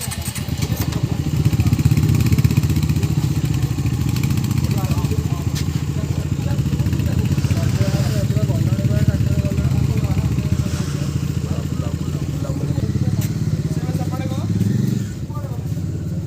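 A motorcycle engine runs steadily throughout, close and loud, while people talk over it.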